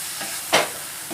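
Egg mixture for fried wonton filling scrambled and stirred in a frying pan, a single brief scrape-and-hiss burst standing out over a soft steady background sizzle.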